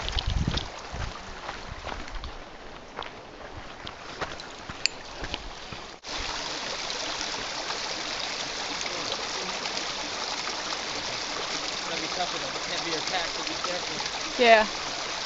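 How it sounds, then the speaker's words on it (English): First Creek on the John Muir Trail rushes along in the mountains, a broad, constant roar of flowing water with wind buffeting the microphone, steady throughout, with a few brief outdoor noises over it. "Alright, Lee and I, we're going to cross First Creek."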